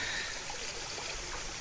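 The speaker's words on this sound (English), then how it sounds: "Running water is, to a beaver, like the sound of the plug being pulled, draining their pond." Water running steadily over a beaver dam, a continuous soft hiss and trickle at moderate distance, unbroken with no voices.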